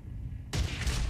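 A single sharp gunshot-like blast from a weapon in Dead Space 3 bursts in abruptly after a quiet moment, loud and close, followed by a sustained noisy rumble.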